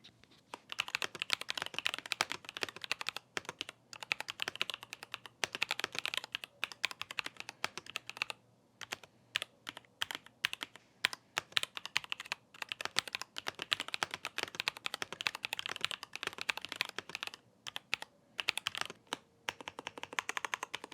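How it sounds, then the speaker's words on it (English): Steady, brisk typing on a GK GAMAKAY SN75 mechanical keyboard, with dense clicky keystrokes continuing throughout and brief pauses between bursts, close and fairly quiet. "let's do the sound test of second version of this keyboard."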